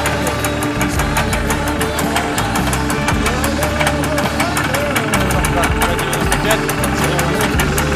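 An Izh Jupiter 3 motorcycle engine, started after standing for four and a half years, idles steadily with a busy, rattling two-stroke chatter, close and continuous throughout.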